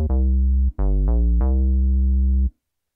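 Roland Fantom G synthesizer preset 0693 'SH square' plays four buzzy, hollow square-wave notes in succession, the last held about a second before cutting off cleanly, loud and dry with no other sound.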